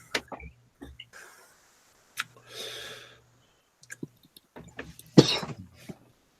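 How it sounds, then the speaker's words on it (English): Several harsh coughs come in short bursts with pauses between, close and fairly loud, ending in a sharper, heavier cough. "As I cough up a lung."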